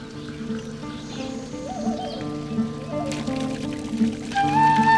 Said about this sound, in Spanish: Nadie ha podido descubrir de dónde viene el agua de estas fuentes